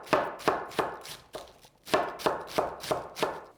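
Leaves sliced thinly by hand with a knife on a cutting board, a run of sharp, evenly spaced thuds, about ten chops with one brief pause partway through.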